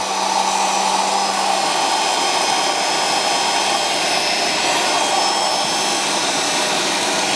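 A small high-speed Wolf tool post grinder motor whines steadily and continuously, a loud, close, even hum with a bright airy hiss and no pauses.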